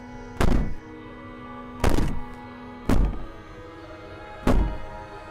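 Four heavy, hollow bangs land at uneven intervals as the princess violently rattles and pounds on a door in the video game Slay the Princess; each thud is loud and close with a short decay, and silence falls between them.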